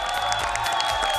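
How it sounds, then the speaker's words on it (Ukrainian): Audience at a Ukrainian inter-school competition round: a continuous wash of clapping and crowd noise, steady and moderately loud for the whole short moment. "Бурхливі оплески, будь ласка."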